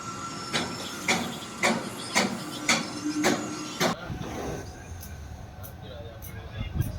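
A passenger train running on rails near Dharmapuri station, with a series of regular rhythmic clacks from the wheels over a steady hiss and rumble, heard from inside the train.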